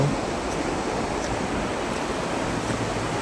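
Sea waves roar continuously on the beach at Cox's Bazar, a loud, dense wash of surf with wind noise and no speech.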